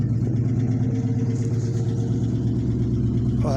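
A 1967 Ford Mustang idles through a stainless steel exhaust, a steady, deep, burbling rumble that stays even and close with no talk over it.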